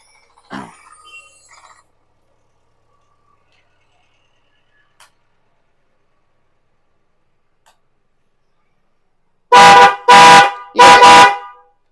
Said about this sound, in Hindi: यहाँ पर ये हॉर्न मिल जाएंगे, पोंपों वाले, पीपी वाले, पोंपों वाले, सारे हॉर्न मिल जाएंगे।